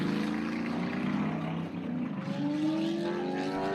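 Drag racing cars, a Monte Carlo against a Grand Caravan, roar steadily down the strip at a street-style event, with engine tones rising continuously and no break in the loud, sustained noise.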